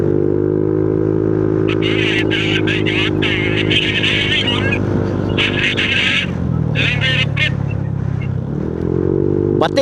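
A motorcycle engine drones steadily with a low, rumbling tone, pitch dipping and rising, while loud voices shout and talk over it throughout.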